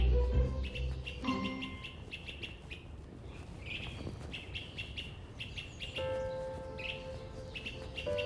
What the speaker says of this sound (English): That's an Orchard Oriole.